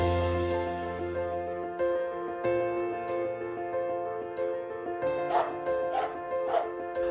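A dog barking in short bursts while wearing a Num'Axes anti-bark collar, with a steady tonal background hum and several sharp yips and whimpers near the end.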